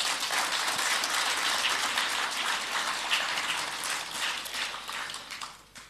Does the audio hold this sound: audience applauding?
yes